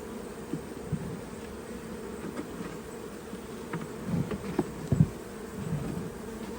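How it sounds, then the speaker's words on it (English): Steady buzzing of a late-season honeybee swarm fills the background as bees are shaken off a comb, a continuous low drone with a few louder bumps and taps near the end. "I'm going to shake the bees off that."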